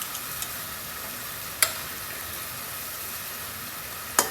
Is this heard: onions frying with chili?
yes